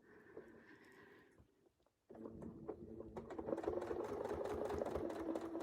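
A sewing machine stitches a tiny closure in a wreath design, running briefly, pausing in near silence, then starting again in a long, steady, close, rapid needle patter with no talking.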